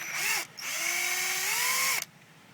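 Power tool buzzing as it backs out the clutch spring bolts on a 2006 Honda Rebel motorcycle, two close, loud whirring bursts with a rising pitch, a brief pause between them, then silence.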